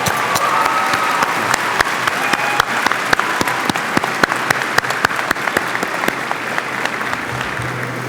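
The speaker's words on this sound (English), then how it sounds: "Can we have a round of applause for everybody?" Graduation audience at a high school ceremony applauding steadily, a dense wash of many hands clapping with sharp individual claps standing out, sustained and fairly loud throughout.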